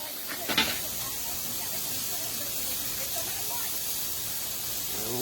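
Steak, mushrooms and onions sizzle on a Blackstone griddle with a steady, close hiss and a few sharper crackles near the start and end.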